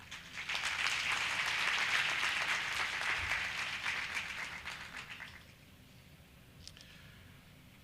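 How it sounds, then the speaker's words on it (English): A crowd at a college graduation ceremony breaks into applause, a broad sustained clapping that swells for about five seconds and then fades away, leaving quiet room tone with a few scattered claps. "Can we give them a round of applause?"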